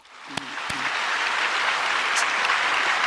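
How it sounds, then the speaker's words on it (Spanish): A church congregation at a healing revival service claps for the pastors. A couple of sharp claps come first, then full sustained applause swells and stays loud to the end. "Vamos a aplaudir a todos los pastores y al pastor Kim Song-yeon por lo que hoy hicieron."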